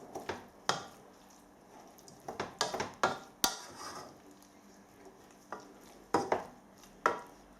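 Blackberries are stirred into warm apple in a pan, heard as soft wet squishes and scraping strokes in irregular bursts over a quiet background, with no one speaking.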